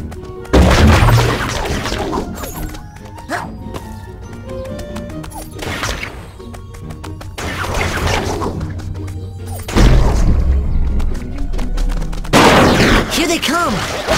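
A baseball launcher fires in the Phineas and Ferb Across the 2nd Dimension video game, with loud bursts of punchy shots and impacts over game music, separated by quieter stretches.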